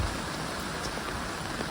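Heavy rain pours down steadily at a house, a dense, continuous wash of drops hitting surfaces close by, with no voices over it.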